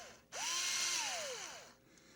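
A power drill runs on hammer setting, spinning up with a rising whine, holding a steady buzzing rattle for over a second, then winding down, loud and close with no talk.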